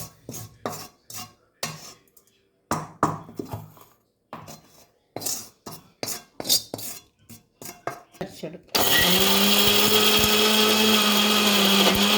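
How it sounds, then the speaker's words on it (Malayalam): A mixer grinder blends flax seed chutney: a few soft kitchen clinks and clatters come first, then a loud, steady, continuous motor whir starts near the end and runs without a break. "അതിന് നമുക്ക് മിക്സിയിലിട്ട്"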